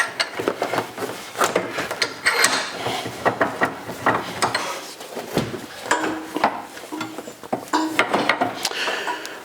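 Cutters snip through PTFE hose at a workbench, sounding as a run of sharp clicks and crunchy cuts mixed with handling knocks and rustles, close and fairly loud with no talk.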